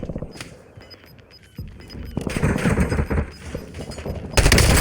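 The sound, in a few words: gunfire in Warzone video game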